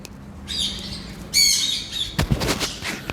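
Birds in an aviary breeding setup give bright, close chirps and short squawking bursts in irregular clusters, with a few sharp clattering knocks and rustles between calls.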